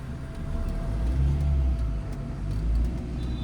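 A car pulls away under light acceleration during a beginner driving lesson, a low engine rumble that swells gently and then settles, heard from inside the cabin, steady and fairly loud without speech.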